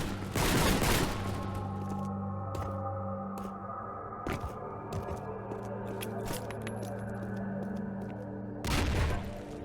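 Synthetic gunshot effects crack in a Scratch shooter video game, a burst of loud shots at the start and again near the end, with scattered single pops and a steady electronic hum between them.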